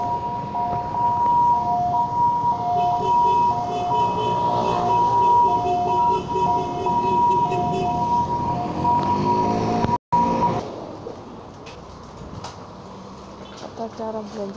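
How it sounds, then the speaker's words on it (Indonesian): An ambulance siren passing along a Taipei street in late afternoon, a loud steady two-tone wail over heavy traffic and rail-like rumble for about ten seconds before it cuts off, leaving quieter street noise behind. "ambulan lewat dikasih jalan."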